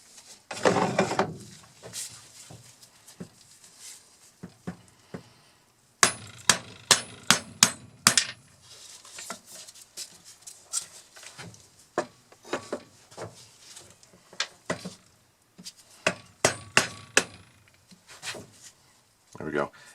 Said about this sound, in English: And now this one here, I'm tapping on it.